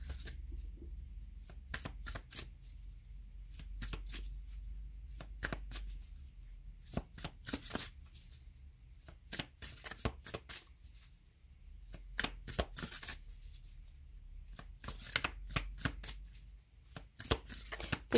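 Oracle cards are shuffled and drawn in quick papery bursts. The riffles and slaps are crisp and close, with short pauses between, in a quiet room with no talking.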